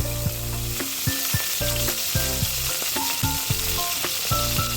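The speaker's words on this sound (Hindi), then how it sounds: "घी के अंदर हम सबसे पहले अब जीरा डालेंगे।" Cumin seeds sizzling in hot ghee, a loud continuous frying crackle with a few light stirring clinks, close and steady with no talk.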